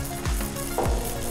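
Panko-crusted bacon sizzles steadily on a Blackstone griddle, a close crackling hiss with a couple of brief scraping stirs.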